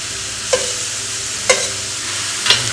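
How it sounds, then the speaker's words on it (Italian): Chopped vegetables and pancetta sautéing in hot oil for a Bolognese ragù, a close, steady sizzle broken by three sharp utensil taps against the pan, evenly spaced about a second apart. "L'olio ora è abbastanza caldo, mettiamo dentro gli ingredienti a far soffriggere."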